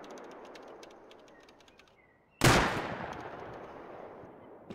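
A single loud, sharp gunshot cracks out in a video game sniper fight and rings off in a long fading tail, preceded by quiet ambient game noise with faint bird chirps.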